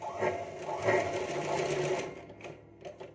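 A sewing machine runs steadily for about two seconds while stitching a finishing seam along a V-neck blouse neckline, then slows into a few short bursts before stopping.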